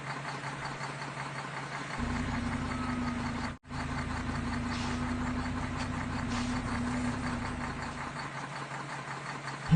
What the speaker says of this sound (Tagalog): Bakit pinagana na nila itong sasakyan?